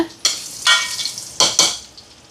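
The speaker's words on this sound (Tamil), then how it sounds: "பச்சை மிளகாய், வெங்காயம். இப்போ இதெல்லாம் வதங்கட்டும்." Green chillies, curry leaves and onions sautéing in a pan for a chicken meal, with four sharp bursts of sizzle and scraping, each flaring loudly and fading in between, heard up close.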